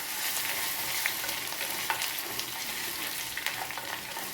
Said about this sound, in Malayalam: ടീസ്പൂൺ ഈ വെളുത്തുള്ളി ചതച്ചതിടാം. അതുപോലെ 1 ടീസ്പൂൺ ഇഞ്ചി ചതച്ചതിടാം. നമുക്ക് നന്നായിട്ടൊന്ന് വഴറ്റാം.